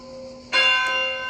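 A church bell in the Tuscan countryside near Valiano di Montepulciano strikes the hour at three o'clock. A single loud, bright stroke comes in after a quiet moment and rings on in a long, shimmering decay.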